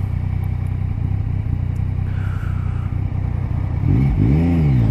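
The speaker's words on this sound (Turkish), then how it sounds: "motorda Akrapovic egzoz. Çok ses ne kadar geliyor bilmiyorum ama çok felaket ses" A Yamaha MT-09 motorcycle fitted with an Akrapovic exhaust idles with a deep, steady rumble, then revs near the end in a couple of rising and falling swells, heard close and alone.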